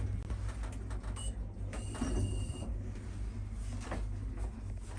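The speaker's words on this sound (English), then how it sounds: "Doors closing." Pickerings hotel lift doors in Enniscorthy closing, a low steady motor hum with a brief high chime and soft clunks and rattles as the doors slide shut nearby.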